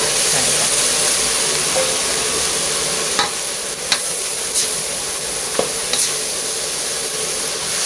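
Long beans and pork stir-frying in oyster sauce in a hot pan, a steady loud sizzle throughout with a few sharp clicks and scrapes of the spatula tossing the mixture.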